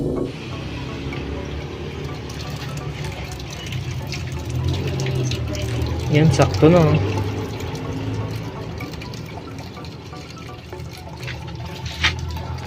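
Water runs and gurgles through a newly installed sink drain and PVC drain line, a steady trickling flow under close talk, swelling briefly in the middle.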